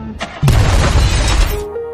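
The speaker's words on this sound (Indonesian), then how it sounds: "mobil itu pun meledak." A car blows up in a film scene: a sudden loud boom with shattering debris bursts in after a short quiet lead-in, then a rumbling roar that decays over a second or so.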